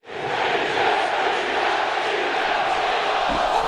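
Philadelphia Eagles fans in a stadium during a 2008 game against the Cowboys, singing as a dense, loud crowd chant that holds steady throughout.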